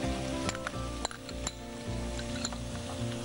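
Shredded raw cabbage fries in a pan with a soft, steady sizzle, scattered clinks and taps of a utensil against the pan, and faint background hum.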